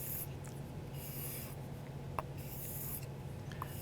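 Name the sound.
knife dragged across leather to remove burr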